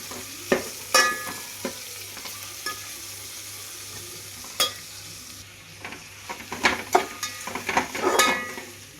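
Tomatoes sautéing in oil with spices for chicken biryani, a low sizzle broken by repeated sharp clinks and scrapes of a spoon against the pan, busier toward the end, with no speech.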